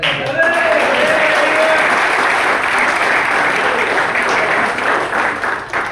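An audience at an office cultural event claps loudly in sustained applause, dense and continuous for several seconds before easing slightly at the end, with faint voices mixed in.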